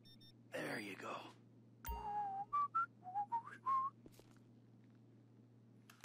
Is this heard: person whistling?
yes